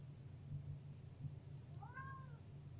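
A cat lets out a single short, faint meow near the end, over a low steady indoor hum.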